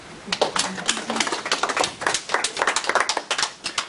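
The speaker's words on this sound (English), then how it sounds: "Give a big round of applause." Audience applause at an energy healing lecture, heard as a small group clapping in quick, uneven bursts at close range, with speech mixed in.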